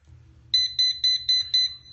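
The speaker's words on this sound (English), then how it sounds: "Paul, your alarm going off?" An alarm ringtone beeps loudly and clearly in five evenly spaced electronic pulses, heard alone over a faint low hum.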